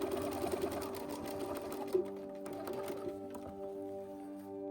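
A sewing machine runs along a folded half-inch fabric edge, giving a steady close whir with a few small clicks and a brief knock partway through.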